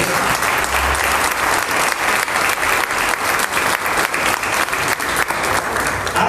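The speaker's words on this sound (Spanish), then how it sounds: "Denle un aplauso al Rey" Sustained applause from a crowd, loud and dense with continuous clapping throughout, no voices standing out.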